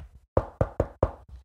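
A door knocked on four times in an even, brisk rhythm, close and distinct, with faint softer taps trailing after and no speech.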